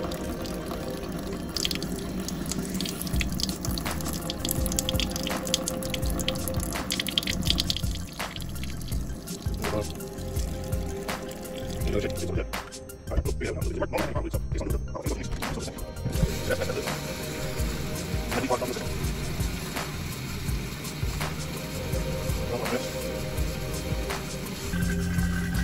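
Water running steadily from a household tap while plumbing lines are flushed with bleach, bypassing the hot water heater; a constant close splashing stream with a brief surge of heavier flow midway and no talking.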